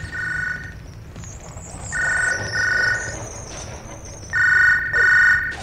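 Electronic phone ringtone in a wrestling career video game, sounding in three separate bursts of warbling tones over a low background hum, with no talk during the ringing.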